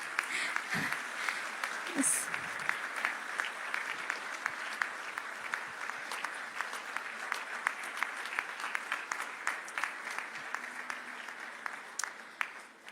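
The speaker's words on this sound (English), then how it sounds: "We can now clap." A graduation audience gives sustained, fairly distant applause, an even crackle of many hands clapping with scattered sharper claps, and a single brief spoken word early on.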